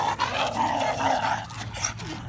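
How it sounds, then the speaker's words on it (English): A Japanese spitz dog growls and whines in a few short, close vocal bursts outdoors, with no speech over it. "The other Japanese spitz is more aggressive than the cat."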